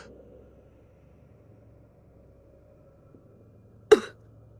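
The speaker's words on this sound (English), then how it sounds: "I heard you cough or did something" A single short, sharp cough close by during a tabletop role-playing game session, rising out of near silence with a faint low hum beneath it.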